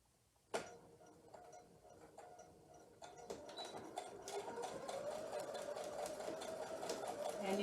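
A sewing machine stitching a herringbone quilt block, starting with a sharp click, then running in a steady, close mechanical whir that builds gradually in speed and loudness.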